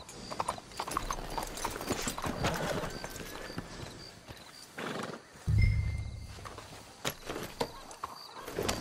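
Horse hooves clip-clop in the video game Red Dead Redemption 2, irregular thuds at middle distance, with a low rumble and a faint tonal whine partway through.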